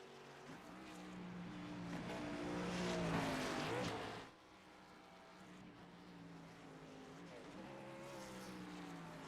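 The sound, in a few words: race car burnouts in a racing video game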